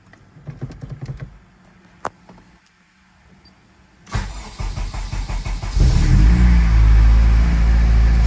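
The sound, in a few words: Honda Civic engine starting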